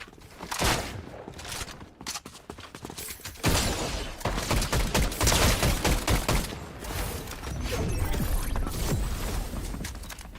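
Shotgun blasts in a first-person video game, a dense run of loud bursts and mechanical clatter that continues for several seconds after a brief lull, with no talk.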